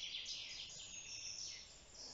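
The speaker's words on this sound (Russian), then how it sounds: "Птицы поют." Birds sing in a hilly forest near the Krasnodar coast, faint, distant high chirps and trills drifting over a quiet background with no talking.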